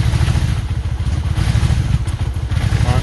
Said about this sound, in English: It backfires a bit from the first cylinder, I think.